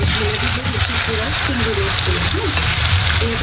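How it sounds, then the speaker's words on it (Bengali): Prawns frying in hot oil in a pan, a steady close sizzle and crackle with a faint voice murmuring underneath. "চিংড়ি হ্যাঁ কালার আসা পর্যন্ত আমি একটু উল্টায় পাল্টায় চিংড়ি মাছটাকে ভেজে নিব"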